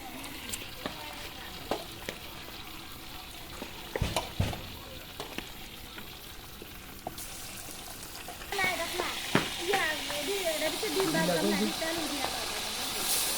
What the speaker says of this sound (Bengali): ডিমটা আগে ভাজতে হইব